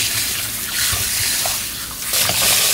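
Salted cabbage for Tongyeong-style traditional kimchi is washed in a basin of water, with loud, close sloshing and splashing that swells and settles in waves, with no talking.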